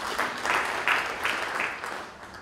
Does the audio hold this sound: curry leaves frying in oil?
no